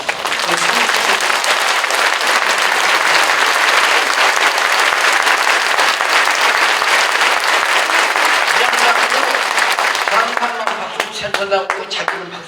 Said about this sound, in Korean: 나오거든 박수 한번 해주세요